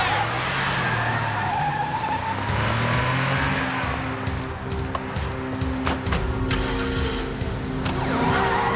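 A car speeds off with engine roar and skidding tires, the sound loud and close throughout. A sharp squeal rises near the end, and there is some mixed background noise.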